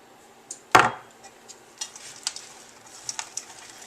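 Granola being mixed with dried cranberries, blueberries and sliced apricots in a pan, one sharp clack of a utensil against the pan followed by lighter scattered scrapes and taps, no one speaking.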